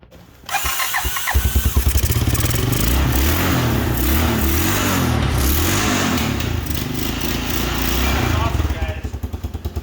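A homemade snowmobile engine fitted with a new carburetor cranks, catches and starts, then revs loudly and steadily close by with throttle surges, settling toward the end; a voice may be faintly present under the engine.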